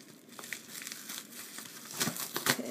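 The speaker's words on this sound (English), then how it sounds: "for some reason I like ripping it open." A blind box package of Dragon Ball figures is ripped open by hand, with close, crinkly plastic and paper crumpling and tearing in irregular bursts that grow louder toward the end.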